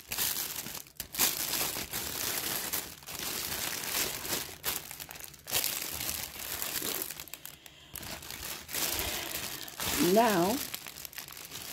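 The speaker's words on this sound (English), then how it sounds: "And I'm going to take the orange gift wrap that I have, which I cut to size to fit in my basket bag." Orange gift wrap paper crinkles and rustles in bursts as it is stuffed into a basket bag, close and fairly loud, with a voice speaking briefly over the handling.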